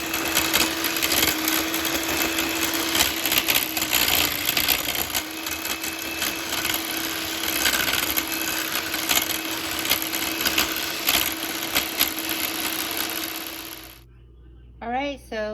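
Electric mixer whirring steadily in a frothy drink sweetened with honey, a loud continuous buzzing hum that stops abruptly near the end, followed by a short voice.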